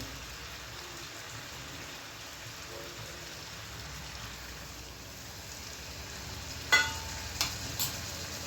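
Spice paste for a country chicken curry sizzles in a pan after a little water is added, giving a steady soft hiss and crackle, with a few brief clinks near the end. No talking.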